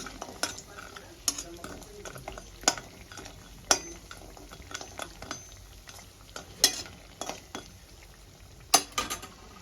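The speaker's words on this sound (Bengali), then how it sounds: "আমি ডালের বড়িগুলোকে দিয়ে একটু লাল লাল করে ভেজে তুলে নেব" Lentil dumplings (bori) frying in oil over a low flame, a quiet sizzle punctuated by repeated sharp metallic clinks of a spatula against the pan.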